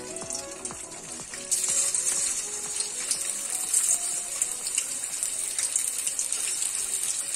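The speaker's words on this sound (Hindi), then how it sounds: "देखिए हमारा तेल अच्छे से गर्म हो चुका है, और मैं अपने इसमें अपने मोमोज डीप फ्राई करूंगी।" Soy Afghani momos deep fry in hot oil in a kadhai, a loud continuous rushing sizzle that swells after a quieter start and stays dense and bubbly, with no talking.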